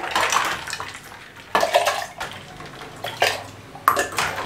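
Ice-cold water and a few ice pieces poured into a grinder jar for homemade butter, giving splashy pours and clinking bursts at intervals, close and moderately loud, with no talking.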